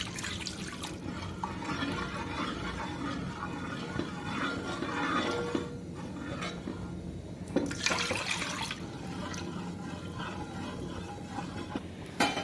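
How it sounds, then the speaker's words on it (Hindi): Milk poured little by little into a pan and stirred, a quiet steady liquid trickle and sloshing with occasional scrapes and clinks of a spoon against the pan, close and faint. "अब हम इसमें थोड़ा थोड़ा दूध डालकर इसे चलाएंगे ताकि इसमें गुठलियाँ ना हो।"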